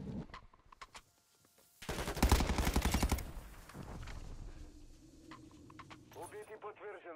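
Video game gunfire: a sustained burst of rapid automatic fire, loud and close, mixed with scattered single shots and game voice callouts.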